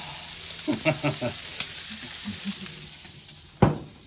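Prawns and a bread roll sizzle on a hot grill, a steady broadband hiss with light scraping and tapping as pieces are placed down, and a sharper knock near the end.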